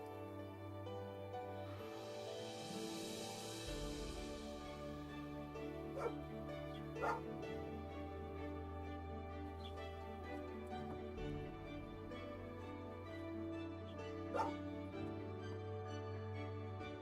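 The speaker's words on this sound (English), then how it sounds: "She's barking for her lunch early." A dog barks a few times, short faint yips scattered over a quiet room with a low steady hum in the background.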